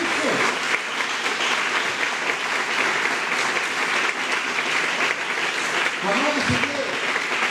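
Church youth congregation giving strong applause for the word of the Lord, a long, full, continuous clapping crowd at steady loudness, with a voice briefly breaking through near the end.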